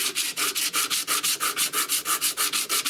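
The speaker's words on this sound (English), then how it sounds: "That is some heavy burl. I'm just going to have to grind that off." Heavy burl wood being ground off the stock of a .410 garden gun during a restoration, a close, loud abrasive rasp pulsing in quick regular strokes, about six per second, with no talking.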